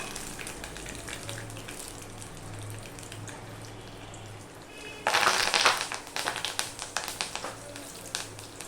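Mustard seeds and curry leaves dropped into hot oil burst into a loud, crackling sizzle partway through, after a quiet stretch of low kitchen hum, then keep popping in uneven spurts.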